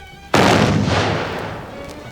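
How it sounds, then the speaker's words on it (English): A single loud gunshot from a man's gun in a house bathroom, a sudden sharp blast followed by a long rumbling decay, standing alone without speech. "There was a terrible bang."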